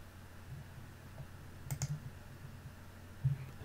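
A few faint, sharp mouse clicks in ANSYS AIM software on a computer: a quick pair, then a single click a moment later, over a low, quiet room hum.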